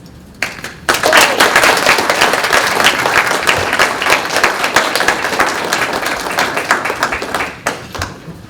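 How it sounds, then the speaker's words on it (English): Audience applause at a Phi Theta Kappa chapter induction ceremony at a community college, a dense burst of many hands clapping that starts abruptly, holds steady and loud for several seconds, then fades out. "Could we get one more round of applause for her?"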